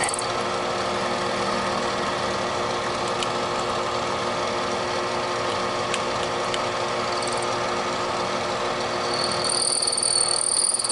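A milling machine with a rotary table cuts metal under coolant, giving a steady close mechanical whir with a few faint ticks and a brief higher whine near the end, no speech.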